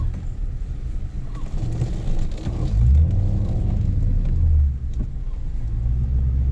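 The V8 engine of an MG ZT260 rumbles close by, swelling into two heavy low revs before settling back to a throaty idle.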